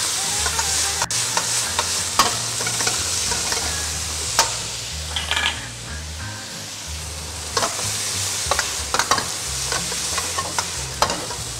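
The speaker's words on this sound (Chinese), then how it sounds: "接着把所有的材料炒在一起，" Bean sprouts are stir-fried with salted fish and garlic in a wok, giving a steady close sizzle broken by repeated scraping stirs and clinks of the spatula, with no talking.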